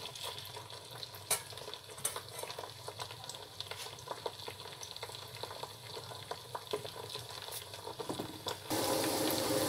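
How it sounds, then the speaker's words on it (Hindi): Okra frying lightly in oil gives a soft, steady sizzle with scattered pops and crackles and occasional stirring clicks, ending in a louder rush of hiss. "यहाँ मैंने भिंडी रख ली है, तेल डाल के हल्का सा ब्राउन करेंगे"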